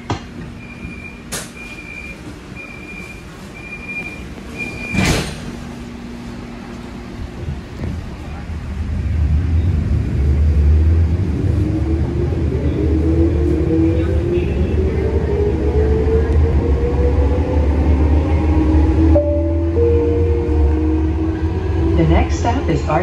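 A LYNX Blue Line light rail train pulls away, its low rumble and rising electric motor whine building steadily from quiet to loud and holding, with a brief chime and clicks early on.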